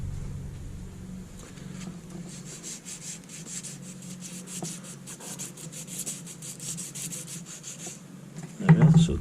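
A wooden arrow shaft being sanded by hand with sandpaper, giving a steady, close rasping rub that runs for several seconds in quick repeated strokes, with a brief louder knock near the end.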